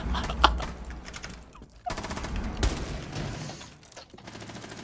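Rainbow Six Siege firefight with bursts of automatic gunfire crackling close and loud, sharp shot transients around the first and third seconds, with mechanical clatter and faint talk underneath.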